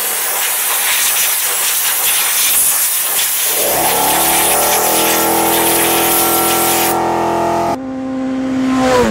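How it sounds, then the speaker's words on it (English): Compressed air hisses continuously and loudly around the spark plug area of a Yamaha R3 motorcycle, a steady blast lasting several seconds with shifting tone partway through. "I also have some compressed air here."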